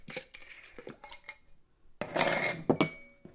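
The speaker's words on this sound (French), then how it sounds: "Donc, on mélange tous les ingrédients." Coffee scrub ingredients with sugar and olive oil are mixed in a pot, giving close, irregular clinks and scrapes of a utensil against the container, with a short pause before a louder burst of clattering.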